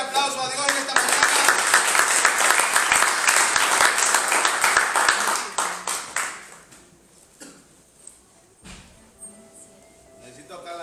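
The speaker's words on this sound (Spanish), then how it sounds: "denle un fuerte aplauso a Dios en esta mañana" A church congregation at a morning service breaks into loud, full applause that fades out after about six seconds, leaving scattered claps, taps and quiet murmuring voices.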